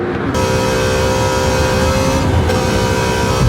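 A car engine roars at high speed in a street-racing video game on a Wangan Midnight highway, in fifth gear at about 220 km/h, a loud sustained drone that stays steady throughout.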